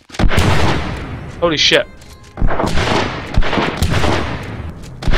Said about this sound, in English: Why do I have to tap to shoot an AK-47?